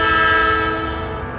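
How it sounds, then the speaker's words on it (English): A video game train blasts a loud, sustained horn while rolling past, the steady harmonic blare holding for over a second and fading slightly at the end, with no talk over it. "Oh my god, train!"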